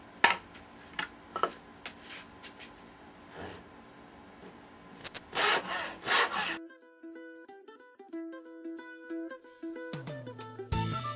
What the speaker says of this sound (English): Next step is going to be to cut it to length and rip it down the center